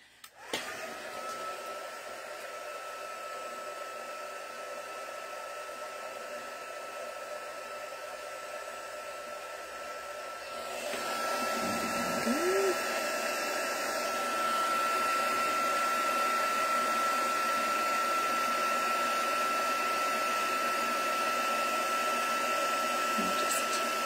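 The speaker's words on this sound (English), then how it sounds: "heat that up with my heat tool" Craft heat tool blowing hot air over a stamped card, a steady loud whirring hiss that runs continuously, growing slightly louder partway through as the tool moves closer.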